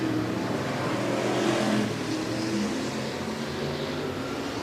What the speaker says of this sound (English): As you can just hear the noise, it sounds like these cars have so much power.